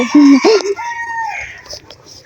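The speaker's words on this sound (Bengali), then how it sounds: "দেখেছো ওখানে মুরগি খেলছে" A chicken calls loudly and close by, a short clucking, crowing cry followed by softer fading clucks.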